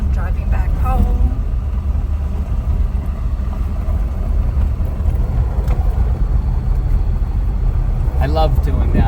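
An RV drives along a road in Death Valley, a steady deep road rumble and engine drone from inside the cab, loud and continuous, with people talking over it.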